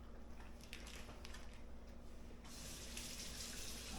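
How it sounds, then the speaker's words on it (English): Tap water at a kitchen sink while hands are washed after handling raw bacon: faint handling noises first, then a steady close rush of running water. "Wash my hands, don't like that slimy greasy feeling."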